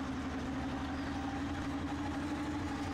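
A KV-2 tank engine in a video game runs at a low, steady drone, faint and continuous with no voices over it.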